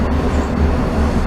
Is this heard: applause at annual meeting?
no